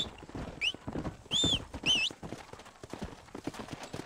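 Horse hooves clip-clop steadily in Red Dead Redemption, close and rhythmic, while a horse whinnies a few times over the top.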